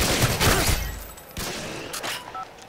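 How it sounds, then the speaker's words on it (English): Automatic weapon gunfire from a video game played on a modded controller, heard as a rapid burst up front followed by a few scattered, fainter shots and echoing impacts, with no talking. "Sounded like an automatic weapon"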